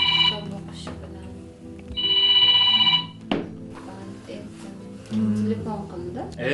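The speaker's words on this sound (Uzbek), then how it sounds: "Telefon qildi. Notanish raqam." A telephone rings in two electronic trilling bursts, each about a second long, with people talking quietly between and after the rings.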